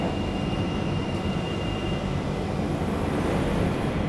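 London Underground Central line train running through the tunnel, a steady loud roar and rumble of wheels and motors that stays even throughout, with no voices.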